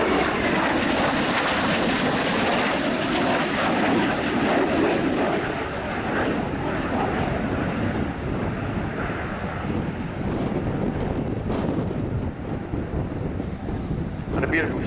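A Polish Air Force MiG-29 jet performing a flying display at an air show, its engines giving a loud, steady, broadband roar that persists throughout with wind buffeting at the microphone, while a commentator talks over it.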